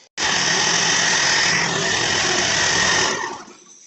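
A Lesco zero-turn mower's engine runs steadily at high speed close by for a few seconds after repair of its hydro drive belt, then tapers off near the end.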